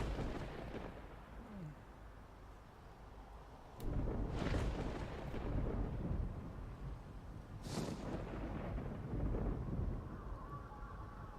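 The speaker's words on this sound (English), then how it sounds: "So that's the sound of the blowout, I believe." Deep rumbling roars surge in heavy waves, with two louder booming swells over a constant low, windy drone: a blowout event in the video game DayZ (Arma II mod).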